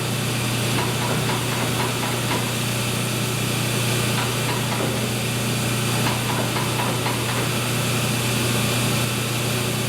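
A lathe runs steadily as the workpiece is slowly jogged forward, giving a continuous mechanical hum with a constant low tone and faint intermittent scraping ticks throughout, close and fairly loud.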